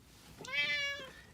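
A single cat meow, rising then falling, close and clear against a quiet background with no talking.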